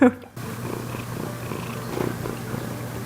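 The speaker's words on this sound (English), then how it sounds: "Yeah, he's purring, I can hear." Steady low rumbling purr from a cat, close by and continuous, with a brief noise at the start.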